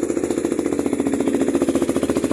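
A KTM Duke 390 motorcycle fitted with an aftermarket muffler revs up close, giving a fast, pulsing, loud rattling exhaust beat that holds steady for a couple of seconds.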